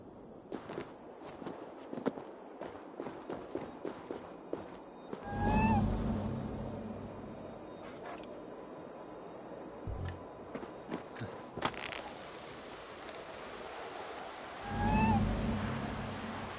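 A cat in Assassin's Creed Valhalla gives two short meows several seconds apart, while light footsteps patter unevenly nearby in an otherwise quiet setting.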